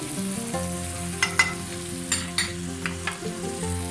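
Cumin and nigella seeds sizzling hard in hot frying oil for a red lobia curry, a steady loud crackle with a few sharper pops and spoon clinks, no voices.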